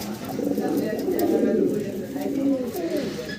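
Yellow Sirazi pigeons, a pair kept for sale, cooing in low murmuring tones that run steadily throughout, close by, with a faint voice in the background.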